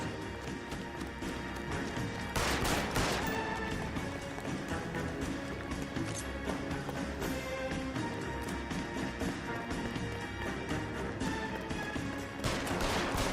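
Gunfire in the LA Noire video game during a chase, as a dense, constant stream of game action with two louder bursts of shots, one early and one near the end.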